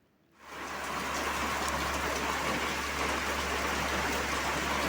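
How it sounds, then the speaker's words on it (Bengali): Heavy rain pours down steadily outside, a dense, loud wash of noise that starts abruptly and holds constant, with no voices. "বাইরে কত বৃষ্টি হচ্ছে।"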